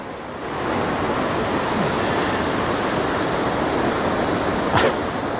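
A waterfall at Devils Hopyard State Park on a freezing day roars steadily with dense, even rushing water, close and loud throughout, with a brief faint rustle near the end.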